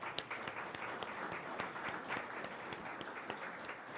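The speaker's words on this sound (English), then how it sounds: "we will very gratefully applaud our guests." A meeting audience applauds its guests: a group's rapid, dense hand-clapping, steady and somewhat distant, for about four seconds.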